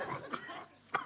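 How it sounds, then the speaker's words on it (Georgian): A person coughs twice, short sharp bursts about half a second apart, close and fairly quiet, with faint room sound between. "აი, პროფესიონალი როგორ ახველებს,"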